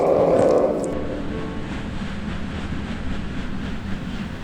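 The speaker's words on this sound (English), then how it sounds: "they could hear the sound of the passing train" A passing train rumbles steadily at a distance on the old Val de Zafán railway line, a low continuous roll with a brief brighter swell near the start and no voices.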